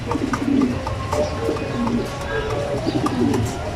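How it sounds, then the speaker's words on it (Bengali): Low, soft cooing repeats in short rounded phrases against steady background noise and rustling, with no one speaking. "আমার হাতে একটা কবুতর আছে"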